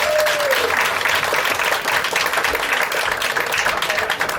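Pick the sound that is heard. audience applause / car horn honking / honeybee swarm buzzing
audience applause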